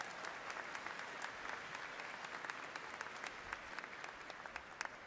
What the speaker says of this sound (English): Let's give them a round of applause for making the day special.